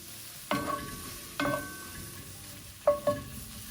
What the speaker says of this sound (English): Now we're gonna add our mushrooms, a little bit of salt,